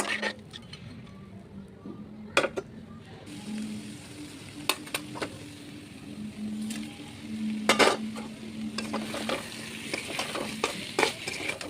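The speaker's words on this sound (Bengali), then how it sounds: "এখন একটু মাংসটা একটু ভেজে নেব।" Mutton fries in a pan with a continuous crackling sizzle. Sharp metallic scrapes and knocks from a stirring spoon repeatedly break through it, close and fairly loud.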